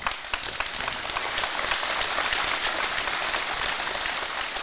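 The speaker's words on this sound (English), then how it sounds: "Let's give the folks at JB Feed and Supply a round of applause." Steady, dense applause from a live podcast audience gathered at JB Feed and Supply in Mount Hope, Ohio, filling the room evenly without letting up.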